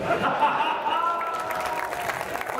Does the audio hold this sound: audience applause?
yes